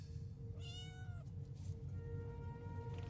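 Spot the cat from Star Trek gives one clear, drawn-out meow close by, alone over a soft background hiss, followed by faint tonal hum.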